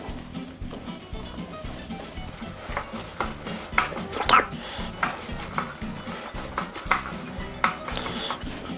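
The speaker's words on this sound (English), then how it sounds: "we're just gonna give this a mix. See our dough start to form." Breadstick dough of flour, butter and salt is mixed in a bowl, making soft repeated scraping and clinking strokes close up, with a faint voice in the background.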